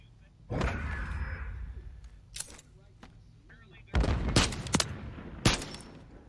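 Gunshots in a first-person shooter video game, scattered sharp cracks and short bursts near and far, with a few loud shots toward the end, interleaved with faint background noise.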